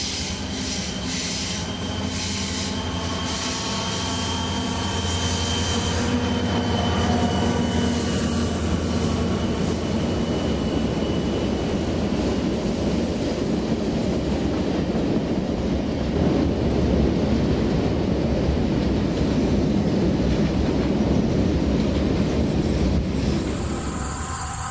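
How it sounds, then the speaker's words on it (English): A single diesel locomotive pulls a string of nearly empty welded rail cars through a railway cut, rumbling steadily with squealing wheels and ringing metallic tones building as the train draws near. "a single unit leads a string of nearly empty welded rail cars through the same cut"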